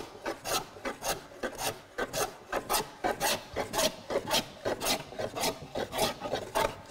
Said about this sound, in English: Now I'm planing into end grain here.